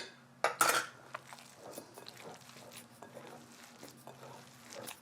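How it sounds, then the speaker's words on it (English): Ricotta meatloaf mixture is worked by hand in a bowl, making soft, quiet squishing and slapping sounds after a sharp clink of a utensil or bowl at the start, all close and faint. "now I'm gonna dive in because this needs a good mix."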